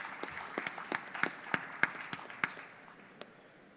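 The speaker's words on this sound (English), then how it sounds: "They require larger applause." At a logistics conference, the audience applauds the Indian Navy. Steady crowd clapping comes through with a few sharp claps near the microphone, then thins and fades out toward the end.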